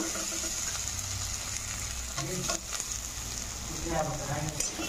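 Potatoes tipped into a pan of browned onions, frying with a steady close sizzle and occasional scraping stir sounds, with faint voice-like murmurs in the background.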